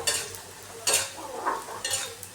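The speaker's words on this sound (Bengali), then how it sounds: "কপিগুলো আমি এই তেলেই ভেজে নেবো" Cauliflower pieces fry in hot oil, soft sizzling broken by a few short bursts of stirring and scraping in the pan, close and fairly quiet.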